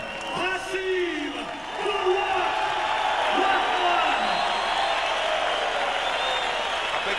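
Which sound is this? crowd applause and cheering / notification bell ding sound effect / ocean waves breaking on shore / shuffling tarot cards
crowd applause and cheering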